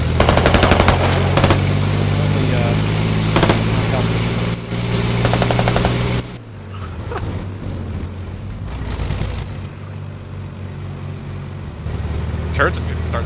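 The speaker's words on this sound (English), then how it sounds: "Turret just needs to start shooting." Machine gun fire and a tank turret in the Squad military shooter game, loud sustained rattling bursts dominating the first half, then quieter distant shots and engine rumble with people talking over it.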